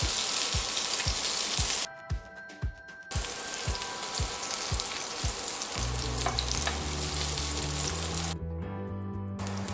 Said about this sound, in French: Les pommes de terre, on leur donne une petite couleur.